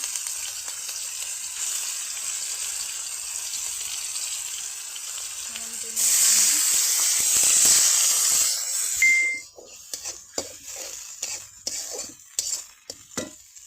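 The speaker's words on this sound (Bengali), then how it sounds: "এখন দিব রসুন বাটা আদা বাটা" Garlic and ginger paste fries in a pan with a steady loud sizzle, flaring hotter when it hits the oil, then giving way to scraping stir strokes and clinks of a utensil against the pan.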